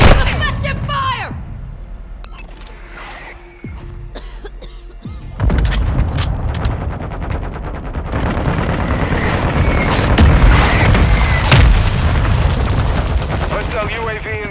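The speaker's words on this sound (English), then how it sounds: "Hostile mortar strike in the area" Mortar strikes land in a Call of Duty: Modern Warfare match, with loud booming blasts and crackling gunfire rolling continuously through the scene over a layer of game sound.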